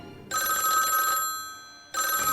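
A telephone bell ringing in two loud bursts separated by a short pause, close and clear with no voices.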